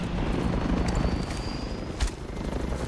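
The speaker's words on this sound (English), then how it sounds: "Recon drones flying in for another pass" Continuous rotor-like whir of a recon UAV drone passing overhead in Call of Duty on Rebirth Island, a steady broad drone with a brief thump near the end.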